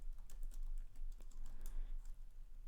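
Typing on a computer keyboard while entering code for a website password-hashing check, a quick run of faint, irregular key clicks close by over a steady low hum, with no voices.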